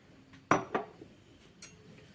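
Yeast is stirred into warm milk in a bowl, giving a couple of sharp clinks of a utensil against the bowl followed by softer scraping taps, close and quiet with no talking.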